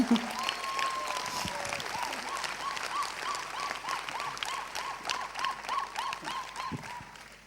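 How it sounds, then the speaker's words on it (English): An audience in a hall applauds, with soft, continuous clapping that runs under a sustained tone and a voice, the clapping growing slightly more rhythmic toward the end before fading. "I think Shamla needs a big applause for that"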